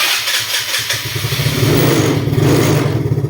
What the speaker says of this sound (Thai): อาการจะเป็นแบบนี้นะครับ ต้อง บิดคันเร่ง ไว้เยอะๆถึงจะติดนะครับ